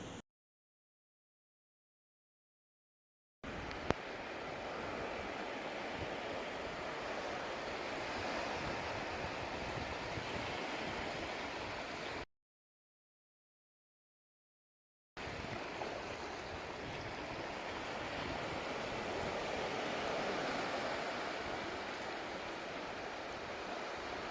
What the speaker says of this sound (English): So off to the beach we go.